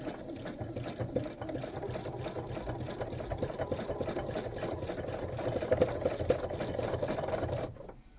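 A sewing machine stitches an embroidered quilt block, a steady fast mechanical whir with a regular needle chatter that runs continuously, close and moderately loud, before stopping abruptly at the end; no one talks.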